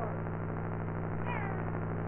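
A pet cat meows in a quiet room, a short, faint cry rising near the middle, while a steady low hum runs underneath and no one talks.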